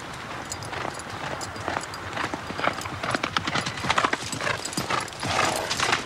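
A boy rides a horse, and its hooves clip-clop in an irregular running rhythm at moderate distance, with a few snorts or whinnies mixed in.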